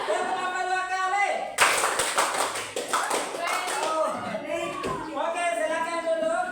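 A class claps hands in a counted rhythm pattern, a dense run of quick claps following a teacher's voice, with talking continuing underneath and afterward.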